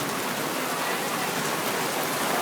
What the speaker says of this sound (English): There comes more rain.